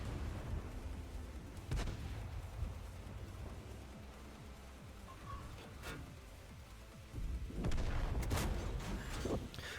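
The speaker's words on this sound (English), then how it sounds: "Aim at the lower plate and put a nice shot into him as well." Tank cannon shots in World of Tanks, fired from an American T29 heavy tank: a handful of sharp, loud booms spaced several seconds apart over rumbling engine and battle noise, with no talk.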